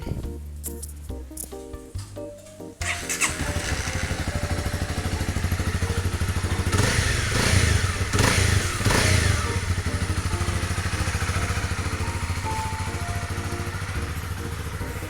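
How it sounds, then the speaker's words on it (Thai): A 2018 Honda CB300R with stock exhaust fires up after a short idle-free pause, then settles into a steady, loud, even idle that runs on alone with no talking. "เครื่องยนต์นะครับดีมากเลยไม่มีดังไม่มีควันใดๆทั้งสิ้นนะครับ"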